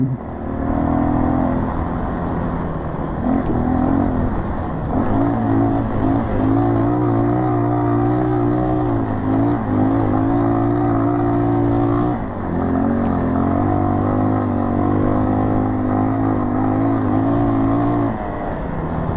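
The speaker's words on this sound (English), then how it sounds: "If you were wondering, that was a wide open throttle." A dirt bike at wide open throttle climbing a sand hill, its engine droning loud and steady for the whole stretch with wavering pitch and brief dips as it labours up the slope, no talking.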